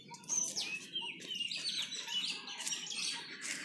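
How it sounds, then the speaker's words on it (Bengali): Birds chirp and sing in a garden with guava and olive trees, bright repeated tweets and short calls continuing steadily at moderate distance over a quiet outdoor background. "পাখির একটা সুন্দর সাউন্ড আসছে।"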